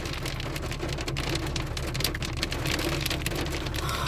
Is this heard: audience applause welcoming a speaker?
no